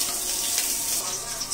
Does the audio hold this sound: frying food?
yes